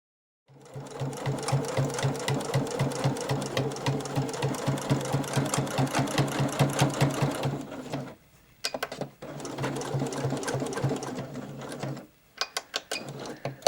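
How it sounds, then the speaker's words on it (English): A sewing machine stitches bias binding onto the edge of a quilted scrap-fabric jacket, its needle chattering in a fast steady rhythm for several seconds, pausing briefly, then running again in shorter bursts. "then I pin bias binding around the outer edge of the jacket and sew it in place."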